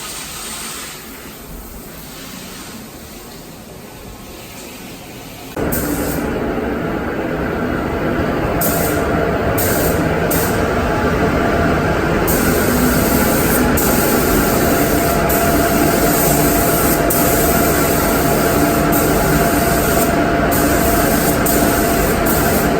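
A spray gun hisses steadily and loudly at close range while painting the front end of a 2017 Subaru WRX STI, a softer hiss running first before it jumps louder and continues unbroken.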